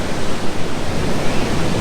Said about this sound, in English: And now, by the way, some massive waves are coming in.